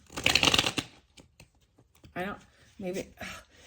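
Tarot cards being shuffled by hand, a dense burst of riffling card noise up front followed by scattered softer card flicks, then a voice speaking briefly in the pauses.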